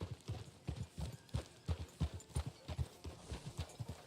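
Horse hooves clip-clopping in an 1899-era video game, a quiet, regular trotting rhythm of distinct hoof strikes heard alone, without talk.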